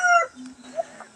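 Jungle fowl (manok labuyo) rooster from Zamboanga giving a short cluck, a brief tonal call followed by softer low clucks, close and fairly loud, with no talk.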